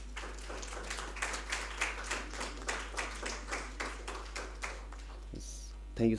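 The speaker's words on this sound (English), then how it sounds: "Please give a huge round of applause for Professor Satya Pandey." Applause at an academic lecture series on Buddhist philosophy for a Delhi University professor, individual claps distinct and rhythmic over a low hum, a modest group clapping at a steady pace before a brief noise at the end.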